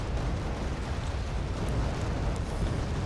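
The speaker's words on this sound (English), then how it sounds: "Now, quite a bit of artillery coming in here, doing a lot of damage to my units." Continuous rumbling barrage of artillery shell explosions in the real-time strategy game Wargame Red Dragon, dense overlapping booms forming a loud, steady roar with no talking.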